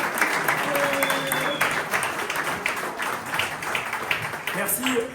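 An audience at an inaugural keynote event in Roubaix applauds, a sustained, moderately loud round of clapping with some voices and faint tones mixed in.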